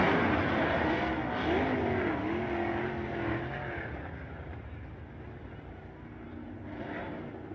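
Sprint cars racing in a heat race at Bloomington during Indiana Sprint Week give a loud, roaring engine drone that slowly fades as the cars move away, with an announcer's voice over it.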